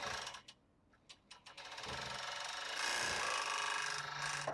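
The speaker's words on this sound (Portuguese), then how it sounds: "E aqui a gente costura" Domestic sewing machine stitching tulle and lace for a bra, starting after a few brief clicks and then running in a steady, fairly close whir that continues to the end.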